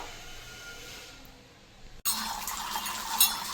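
Raw chana dal being rinsed in water before soaking, a sudden splash and steady wash of water entering after a quiet first half, close and fairly loud with no talking.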